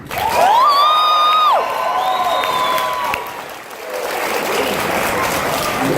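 Dragon Con panel audience cheering and applauding for Team Dean, starting with loud whoops and shouted cheers that give way to sustained, dense clapping across the room.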